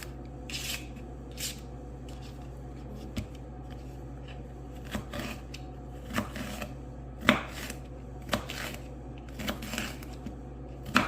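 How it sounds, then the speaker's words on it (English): A knife slices bell peppers on a cutting board, making a series of light, irregular chops and scrapes close by over a low steady background hum, with no talking. "Just, you know, slice them up to your liking. Just get them all chopped up."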